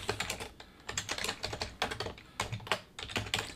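Steady typing on a computer keyboard, quick close key clicks in uneven bursts with brief pauses.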